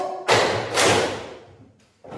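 Group hand clapping in a classroom clapping game: two loud, broadband claps in a row, each with a long decaying ring in the room, then a brief pause and the start of another clap.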